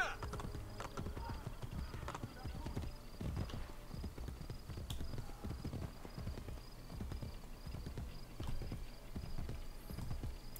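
A white horse's hooves clip-clop in steady, even rhythm on a hard surface in the video game Assassin's Creed Brotherhood, over a constant low ambient game backdrop.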